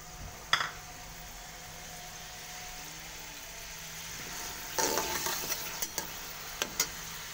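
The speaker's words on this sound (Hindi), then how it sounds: "इसको मैंने ऑयल में डाला है फ्राई होने के लिए" A small onion fries in oil for liver and spinach with potatoes, giving a faint, steady sizzle with a few sharp ticks and crackles that grow busier toward the end.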